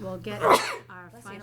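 A single sharp sneeze bursts out close by, with people talking just before and after it.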